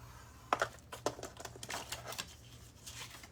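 Paper is scored with a tool at the 2-inch mark for a flower junk journal, a quiet close sequence of light scratchy taps and short rasping strokes over soft rustling.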